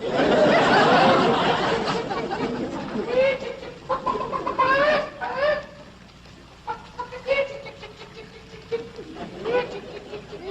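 Chickens clucking on a large country property, a burst of loud overlapping clucks at first, then scattered nearer clucks and short calls spread across the rest.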